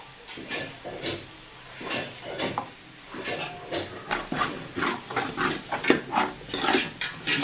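Homemade masala for mutton biryani is stirred in a pan, with repeated scraping strokes and a soft sizzle running steadily through, close by and moderately loud, with no talking.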